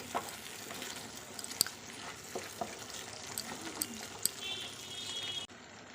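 Spice paste with salt being stirred and fried in a pan, a soft continuous sizzle with scattered scraping clicks of the spoon, fairly quiet and close, no voices.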